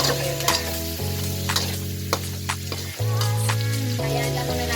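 Tomato sizzling as it fries in a pan with pork liempo, a continuous crackling hiss that steps in intensity a few times, with occasional stirring clicks and no talking.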